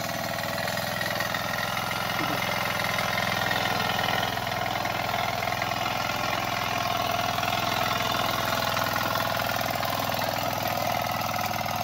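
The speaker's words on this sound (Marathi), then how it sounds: "या ट्रॅक्टरच्या आवाजात तुमचं काहीच ऐकायला येऊचं नाही" A tractor engine runs steadily while ploughing a muddy paddy field for traditional rice planting in the Konkan region, a continuous loud mechanical drone with a low rumble, close by and without pause.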